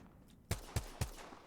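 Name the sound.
gunfire from Apex Legends video game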